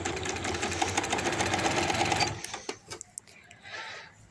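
A sewing machine runs a fast, even stitch along a fabric strip for a baby hoodie for about two seconds, then stops, leaving a few faint clicks and handling taps.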